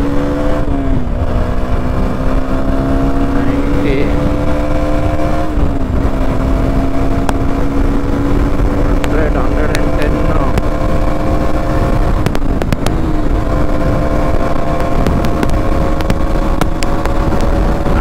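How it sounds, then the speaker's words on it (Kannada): A KTM Duke 200 motorcycle accelerates hard toward top speed on an express highway, its engine droning loud and close with rising pitch through several gear shifts, wind roar beneath it throughout. "ಬನ್ನಿ ಇಲ್ಲಿಂದ ಟ್ರೈ ಮಾಡೋಣ ಟಾಪ್ ಸ್ಪೀಡ್"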